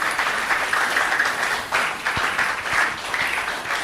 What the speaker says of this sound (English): A round of applause once again for Mommy Ibukun Awosika.